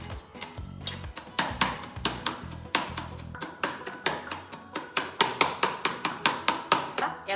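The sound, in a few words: crushing ingredients finely with a glass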